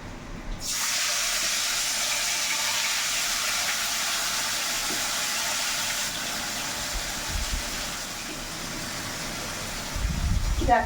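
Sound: chicken frying in oil for meat khichuri

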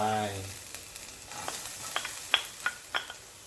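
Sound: garlic frying in hot oil

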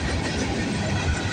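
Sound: freight train passing

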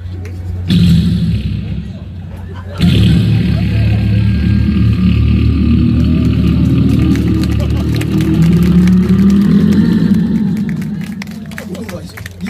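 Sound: performer imitating a 350cc motorcycle with voice

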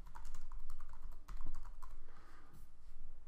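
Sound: typing on a computer keyboard to enter a title

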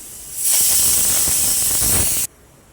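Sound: pressure cooker releasing steam

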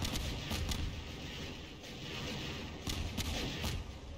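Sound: rockets and artillery fire hitting Siren Head, from video game

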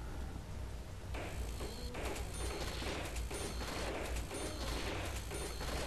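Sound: gunfire shooting zombies in Call of Duty: Black Ops video game

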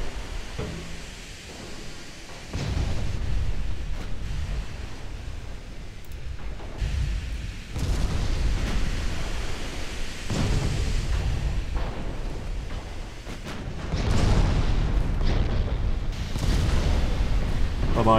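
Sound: torpedoes hitting a ship in a naval strategy video game

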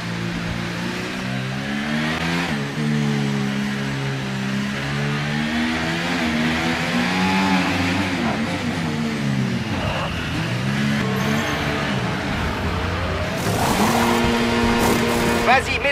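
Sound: race car engine accelerating in racing video game

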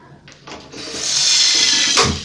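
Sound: pouring two cups of water into a pan

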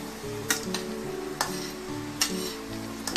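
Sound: aloo suji poori frying in oil, flipped to second side

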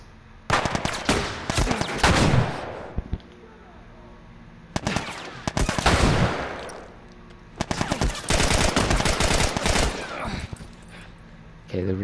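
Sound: gunfire with heavy recoil in the video game The Last of Us

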